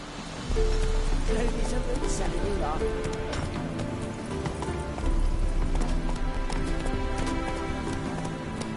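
A horse gallops in The Witcher 3: Wild Hunt, steady clip-clop hoofbeats close and loud with a brief whinny, while a voice talks over the running.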